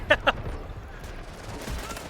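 Gunfire in the Delta Force video game, with two quick, sharp shots up front followed by quieter rumbling background noise.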